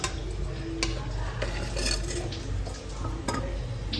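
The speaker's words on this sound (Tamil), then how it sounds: "லைட்டாக எண்ணெய் விட்டு வதக்கி எடுத்துக்கலாம்" Tamarind is sautéed in a little oil in a pan while being stirred, with intermittent clinks and scrapes of a utensil against metal over a low background hum.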